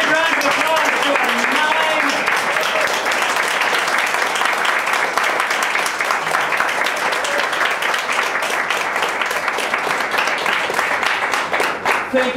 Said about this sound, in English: Let's give a big round of applause to our